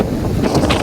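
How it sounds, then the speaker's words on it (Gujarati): Strong wind buffeting the microphone outdoors near floodwater at a temple, a loud low rumbling roar over under a second. "પવન છે અત્યારે બહુ"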